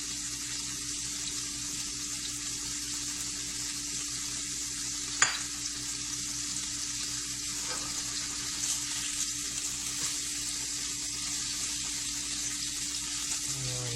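Onions frying in a pan alongside meat and cheese, a continuous moderate sizzle with a sharp utensil clank and light stirring, and one brief spoken word.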